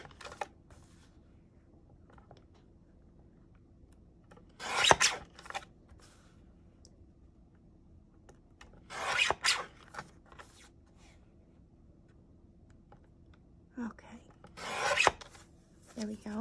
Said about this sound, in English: This one I'm gonna have to cut by hand because it has some curves and things in it.